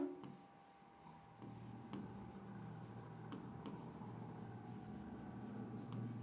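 A pen writes by hand on paper in close, quiet, continuous scratching strokes with small pauses, under a faint background hum and no talk.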